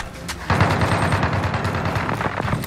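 Heavy gunfire in Call of Duty: Modern Warfare, a sudden burst of rapid automatic shots rattling close and loud in a dense, sustained barrage after a brief quieter lead-in.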